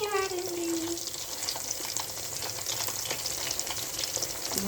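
Chicken lollipops deep-frying in oil over a medium flame, a steady, dense sizzle and crackle running close and loud throughout, with a brief tonal sweep at the start and light stirring underneath.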